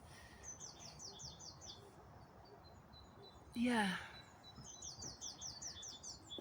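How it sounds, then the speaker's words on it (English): Small woodland birds chirp in repeated quick high-pitched phrases through a steady outdoor background, with a louder descending call cutting in midway and a brief spoken word. "Just looking at the beautiful little birds."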